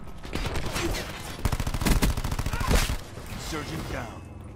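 Rapid shotgun and automatic gunfire in the video game Call of Duty: Black Ops 4 rattles loudly in dense bursts, with someone talking over the action.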